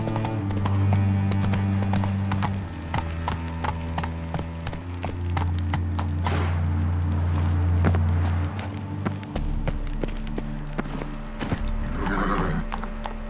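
Horse hoofbeats clip-clop at a steady gallop-like rhythm in The Witcher 3: Wild Hunt, close and continuous under a sustained musical score, with a brief whinny.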